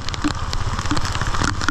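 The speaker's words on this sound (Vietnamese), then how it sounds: "mưa như trút nước" Heavy rain pours steadily in a flood, a dense, continuous hiss of water striking surfaces without pause.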